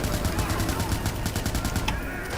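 Rapid bursts of Watch Dogs 2 gunfire rattle in a steady stream, loud and close, with a sharper crack near the end.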